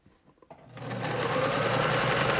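Sewing machine stitching a curved seam on a fabric face mask, starting after a few soft handling clicks and then running steadily and close at an even whirring pace to the end.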